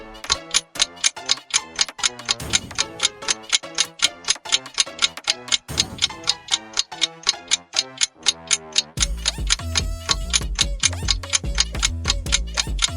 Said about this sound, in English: The answer is a clock.